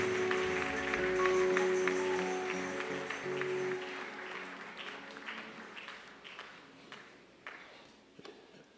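Congregation at a church service applauding together, the clapping loud at first with music underneath, then thinning and fading into scattered claps toward the end.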